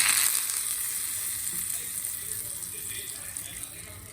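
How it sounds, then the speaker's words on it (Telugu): A hot tempering sizzles sharply as it hits coconut chutney made with milk, the hiss slowly fading over a few seconds. "స్టవ్ ఆపేసి మనం చట్నీలో తాలింపు వేసేస్తాం"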